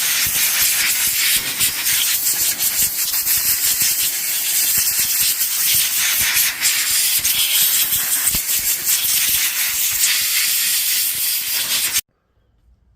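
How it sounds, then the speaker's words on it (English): An air compressor blows a steady, loud hiss of air to dry a power tool part in a repair workshop; the blast runs continuously for about twelve seconds, then cuts off abruptly. "if you're in a bit of a hurry, you can use the compressor again."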